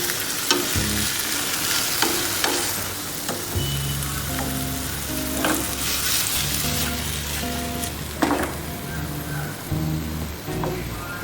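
Blanched, chopped tomatoes frying in a pan give a loud, dense, close sizzle, with repeated clinks and scrapes of a utensil stirring them. Nobody speaks.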